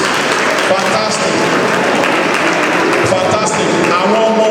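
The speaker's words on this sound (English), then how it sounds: "A round of applause for our please." An audience at an annual general meeting breaks into a sustained round of applause, with loud, dense clapping running throughout and a few voices mixed in.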